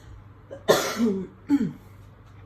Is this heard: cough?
yes